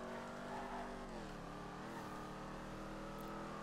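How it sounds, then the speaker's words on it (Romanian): A car engine in the GTA 5 video game hums steadily and close, its pitch dipping and climbing slightly as the motor works, with no voices over it. "Mamă, dar se aude motorul ăsta, zici că e cu tine."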